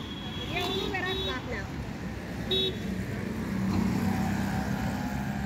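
An auto rickshaw pulls up with a low engine rumble and a couple of short, bright horn toots, heard amid street traffic while voices chatter close by.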